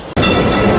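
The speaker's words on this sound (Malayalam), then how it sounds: "ട്രാമിൽ കയറുകയാണ്." Kolkata electric tram rolling on street rails: after a brief hush, a loud, close rumble of wheels and car body starts and holds steady.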